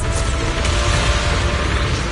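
Explosions in the video game Zenless Zone Zero, a steady dense roar of low booms and mechanical rumble running continuously with no clear gaps, loud and close.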